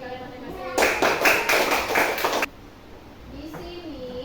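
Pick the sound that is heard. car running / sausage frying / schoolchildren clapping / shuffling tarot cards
schoolchildren clapping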